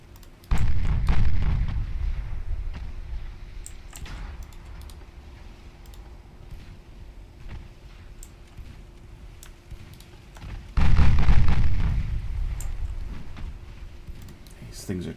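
Two heavy booming blasts of warship gunfire and explosions from the naval battle game Ultimate Admiral Dreadnoughts, set in 1915, each a deep roar fading over seconds beneath a low steady hum, with faint clicking between.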